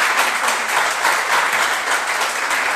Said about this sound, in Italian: se volete può scattare l'applauso